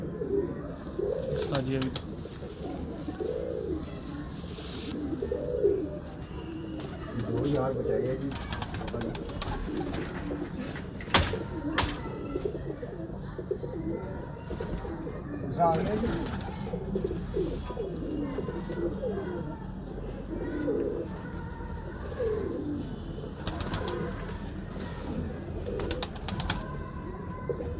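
Breeder pigeons coo in soft, repeated low phrases throughout, close and steady, with a brief spoken word and other voices in the background.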